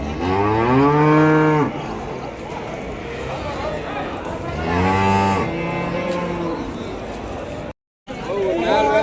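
Cows low in long, loud moos at a Vaniyambadi cattle market, two drawn-out calls with a shorter one at the end, over a background of crowd chatter.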